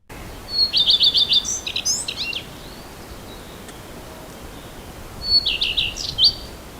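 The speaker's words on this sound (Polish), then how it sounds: "Tak śpiewa Pleszka." Two short bursts of bright, high-pitched warbling common redstart song separated by a few seconds of quiet, the phrases quick and twittering, heard fairly close against light background hiss.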